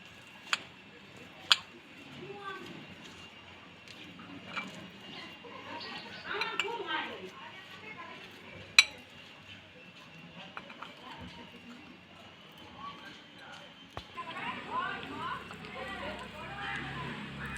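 A spoon mixing mashed wood apple in a bowl gives faint, scattered clinks and soft scraping, with a few sharper taps against the bowl in a quiet room.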